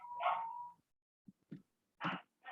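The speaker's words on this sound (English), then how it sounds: "I'm sorry about the dog barking." A dog barks indoors, heard faintly in the background: one longer bark followed after a pause by several short, softer barks.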